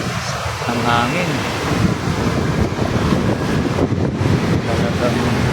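Gusty wind blasts across the microphone in a continuous rough roar on One San Miguel Avenue, a street in Ortigas Center, with brief voices heard faintly at the start.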